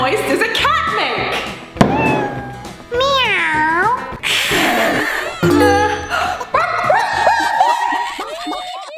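A child imitates a cat with a series of drawn-out, high, wavering meows, mixed with giggles and snickering laughter close to the microphone.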